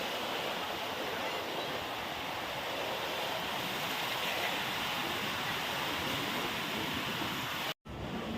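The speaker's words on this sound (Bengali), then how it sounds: "ছোট বড় সব রকম ঢেউ এসে ধাক্কা খাচ্ছে" Sea waves of mixed sizes breaking on a beach shore at Mandarmani, a continuous close roar of surf with wind noise, which cuts out briefly near the end.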